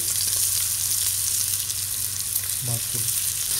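Potatoes tossed with garam masala sizzle in a hot pan, a steady bright frying hiss throughout, with a couple of short scraping stirs near the end.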